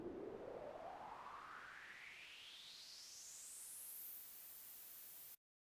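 A hissing white noise synth with a resonant filter whistling tone sweeping steadily upward in pitch for about five seconds, then cutting off abruptly.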